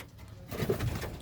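Domestic desi pigeons coo at close range in a home loft, a short low throaty burst starting halfway through after a quieter moment.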